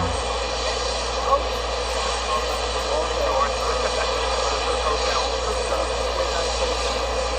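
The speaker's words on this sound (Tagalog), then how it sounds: "touch daw na ano, aeroplano na sinasakyan ni Tatay Digong" An airplane landing, heard as a continuous loud engine roar and rumble that holds steady throughout, with people talking over it.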